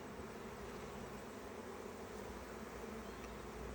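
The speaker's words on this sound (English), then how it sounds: "See the nurse bees there, hard at work" A dense, steady drone of many honey bees buzzing close together inside an open Langstroth hive, continuous and low-pitched with no pauses.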